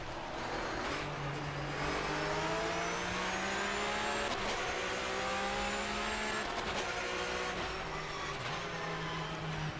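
A race car in rFactor 2 running the Flat 6 mod brakes and shifts down, its engine note stepping down through several falling tones in a row, then revving again under steady wind and tyre noise.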